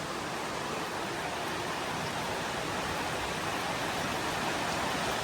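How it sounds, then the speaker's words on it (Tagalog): Dense, steady hiss of heavy rain pouring down, broadband and unbroken for the whole stretch, with no voices. "Grabe ang ulan."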